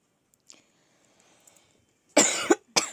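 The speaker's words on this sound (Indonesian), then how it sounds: "lagi sedikit batuk." Two sharp, close coughs in quick succession break an otherwise quiet room, the first harsher and longer than the second.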